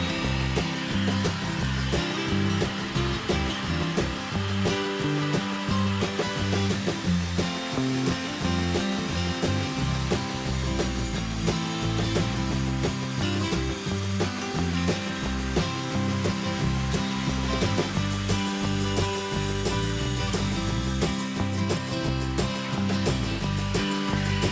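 An Evolution R185 CCSL circular saw cuts through a 6.5 cm piece of eucalyptus, just beyond its 6.4 cm cutting capacity. The motor whines loud and continuous throughout as the blade bites into the wood, with no speech.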